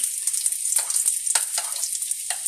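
Spinach and onion patties frying in a pan, a steady bright sizzle of hot oil, loud and close, with faint scrapes and taps throughout.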